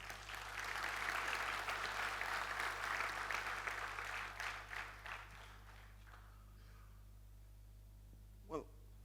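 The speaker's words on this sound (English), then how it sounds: "I really want a round of applause for India." Keynote audience at the UiPath Forward India 2018 enterprise RPA event breaks into loud, sustained applause that thins out after several seconds, ending in a few scattered claps and a single late clap.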